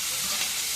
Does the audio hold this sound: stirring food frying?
yes